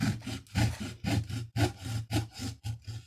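A kitchen knife saws through the corner of a box in steady back-and-forth strokes, about two per second, with close, rasping scrapes and no other sound.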